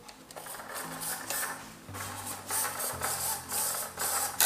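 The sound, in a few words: RC airboat servo moving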